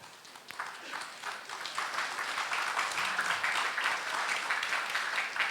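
An audience at an academic conference claps steadily, the applause building slightly and holding as a dense wash of hand claps.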